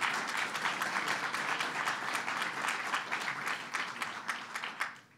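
A roomful of people at a governor's executive order signing gives a round of applause, steady dense clapping holding evenly before tapering off at the end.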